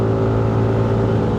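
A KYMCO G7 touring scooter with a PTM engine holds a loud, steady engine drone while taking a mountain-road corner, with no talk over it.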